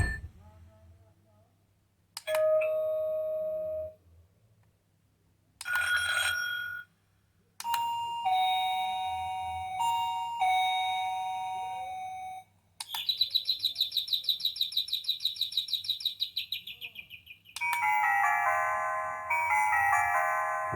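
SilverCrest STK 17 A1 wireless doorbell chime playing a series of different electronic tones one after another: ding-dong notes, bird-like chirping melodies and rapid trilling tunes, loud and close, separated by short pauses.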